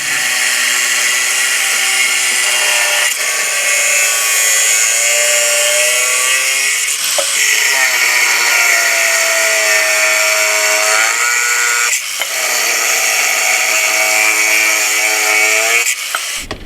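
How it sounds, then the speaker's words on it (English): A power cutter slices through threaded rods during a home extension build, a steady high whine running nearly continuously with brief dips as each rod is cut through. "you can just run the cutter through"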